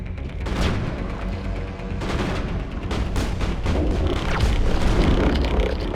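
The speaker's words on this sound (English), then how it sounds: "Okay, so that's the sniper." Sniper fire and heavy booms from the video game Mass Effect, a dense run of sharp gunshots and explosive thuds over a rumbling low background, growing busier toward the end.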